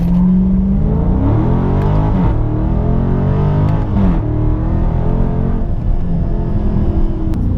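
A car in manual sport mode launches hard, its engine revving up in rising sweeps with a brief drop between gear pulls, loud and close, with tyre noise underneath.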